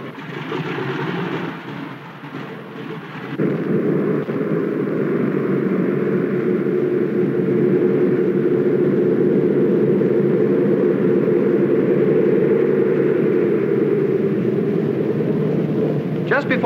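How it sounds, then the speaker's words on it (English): Twin radial engines of a 1930s airliner run up on the ground before takeoff, a steady loud droning rumble that builds after a brief lull and holds throughout. "Before we take off, Norton, my co-pilot, tests the motors while I take a look at the instruments and controls"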